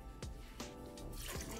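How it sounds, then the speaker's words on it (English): Hot water poured from an empty can into a meatloaf casserole mix gives a faint, close series of short splashes and drips, three or four quick bursts under a low background hum. "we're gonna add 1 can of water to our mix here"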